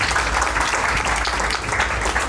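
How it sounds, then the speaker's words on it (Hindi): Guests applauding at a wedding reception, a dense and even patter of clapping that holds steady and fairly loud for a couple of seconds, with a low hum underneath. "क्या ताली बजा सकते हैं?"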